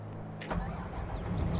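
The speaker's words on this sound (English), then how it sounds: "Start up the engine." A Case IH tractor engine in Farming Simulator 22 cranks briefly and catches, then settles into a steady low rumbling idle, close and clear with no talking.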